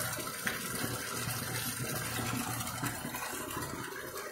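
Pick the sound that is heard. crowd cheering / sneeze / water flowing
water flowing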